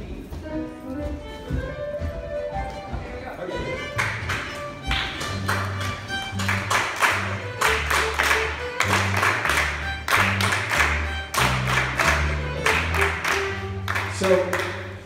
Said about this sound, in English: I'll show you how the claps go.